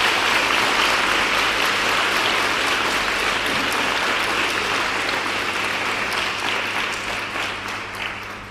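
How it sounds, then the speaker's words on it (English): A school prize-giving audience of girls applauds their music teachers with dense, loud, sustained clapping that holds steady for several seconds before gradually tapering off. "I think they deserve another round of applause."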